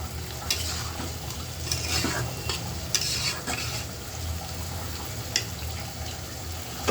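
Bitter gourd and potato pieces fry in a pan, giving a steady close sizzle with intermittent stirring clatter and scrapes and no talking.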